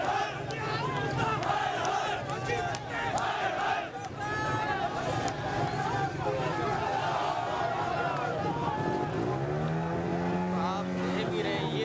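Busy road traffic and a large, loud crowd fill a street in Islamabad, with engines passing, horns and many shouting voices all blending into a dense, continuous roar up close.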